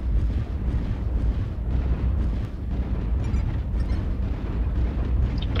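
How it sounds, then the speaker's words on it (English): Weapon fire from a ridge in a mech combat game, where large lasers are in use: a continuous low rumbling roar with repeated muffled blasts and bursts, dense and loud, with no voices. "I see weapon fire from ridge."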